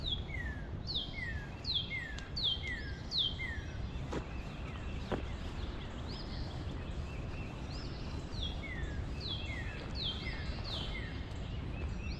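Birds chirp in repeated high, descending notes over a steady outdoor hiss, with a faint insect drone and a couple of brief clicks.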